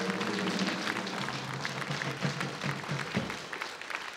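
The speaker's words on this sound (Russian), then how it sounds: "традиционно в этот момент звучит овация в студии" A television lottery game studio audience breaks into sustained applause, dense steady clapping from many hands filling the room at moderate volume without pause.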